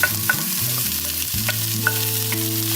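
Onion and garlic frying in a pan for spam and egg fried rice, a steady close sizzle with light stirring scrapes and clicks running throughout.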